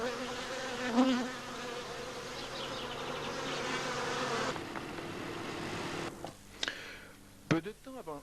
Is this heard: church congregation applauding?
no